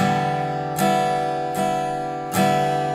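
Three bright guitar strums, evenly spaced and each left to ring, with a sharp attack on every downstroke.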